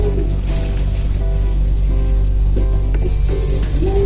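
Butter melting in a pan for a simple kangkong dish, a steady loud sizzle with a low constant hum underneath and no talking.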